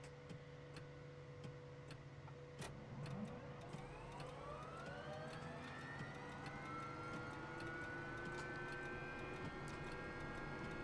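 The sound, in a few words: Mi-2 helicopter engine starting in MSFS 2024 video game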